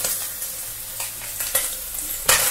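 Beef tongue, onion and Korean-style grated carrot sizzle steadily in a hot frying pan for a warm salad, with close spatula scrapes and stirring strokes recurring in uneven bursts.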